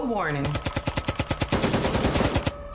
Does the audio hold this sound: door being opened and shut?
no